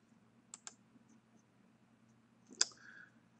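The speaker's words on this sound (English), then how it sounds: "So I right click, save as layer file" A computer mouse clicked in ArcMap, two quick close clicks followed after a pause by a sharper, louder click, all faint in a quiet room.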